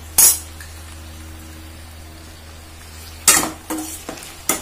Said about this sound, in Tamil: இப்போ இதை நல்லா வதக்கி விட்டுக்கலாம். இந்த உப்பு கலக்கிற வரைக்கும் நல்லா மிக்ஸ் பண்ணி விட்டுக்கோங்க.